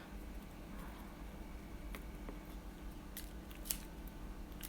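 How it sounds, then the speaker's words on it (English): A blade snips Braille label tape: several short, crisp cuts and clicks over quiet room tone, close by, with a sharper snap near the end. "Then I'm going to cut it down again."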